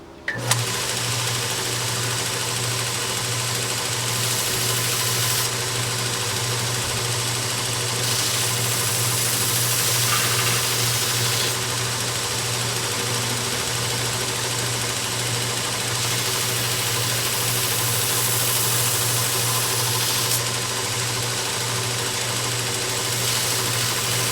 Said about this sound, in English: I've done some more grinding on it after heat treating.